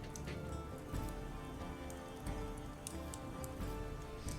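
Rain pattering down during a storm in a video game, with a dense, steady spray of drops ticking on surfaces, close and continuous, with no voices.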